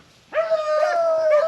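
Rabbit-hunting dogs give a sudden, loud burst of yipping and howling bays in one sustained, wavering cry that starts after a short quiet moment and carries on, close by and clear, with no talk.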